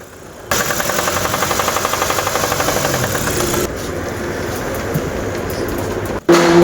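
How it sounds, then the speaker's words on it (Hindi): A running Hyundai Sonata engine with connecting rod knock, a rapid, regular knocking tick beneath the drone, loud and close, continuing steadily before a brief abrupt change near the end. "मुझे तो कनेक्टिंग रॉड का साउंड लगा है"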